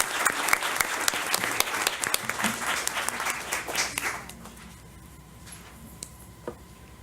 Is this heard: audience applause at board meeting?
yes